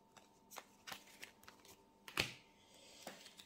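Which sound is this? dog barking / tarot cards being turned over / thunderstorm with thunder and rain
tarot cards being turned over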